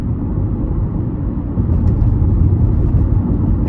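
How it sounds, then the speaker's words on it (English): Steady low rumble of road noise inside a 2004 Honda CR-V with a 2.4-litre four-cylinder engine on a rough industrial road, a continuous droning hum heard alone without talk. "Most cars, you can hear the road noise on this road here because it is so rough."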